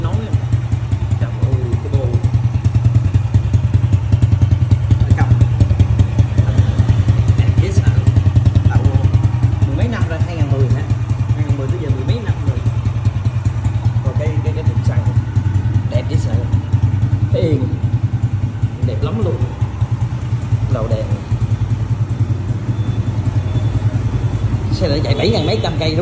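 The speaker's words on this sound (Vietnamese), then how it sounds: "Nó là nổ máy. Máy nổ đã. Bum bum bum bum bum." A 2010 Honda Super Dream motorcycle engine idles with a steady low, even rumble close by and loud throughout, while someone talks over it.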